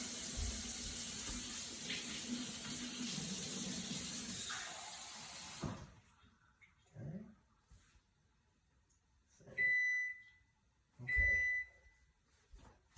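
Kitchen tap water runs in a steady hiss for several seconds, then stops, followed by a few clunks and two short electronic beeps from an oven signalling it has preheated.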